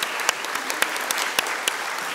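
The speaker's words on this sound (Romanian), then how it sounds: "Vreau să vă aplaud în primul rând pe voi" An audience applauds graduates at a university graduation ceremony for educational sciences, a steady wash of clapping with a few louder, sharper claps popping out close by.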